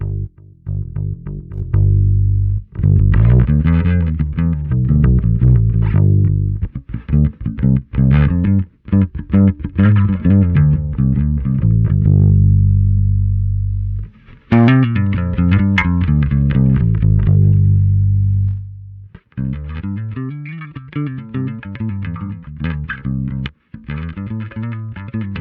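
Electric guitar played through a SansAmp pedal model in AmpliTube 5 software, giving a thick, distorted tone with sustained chords and single-note phrases that ring loudly and alone, separated by brief stops.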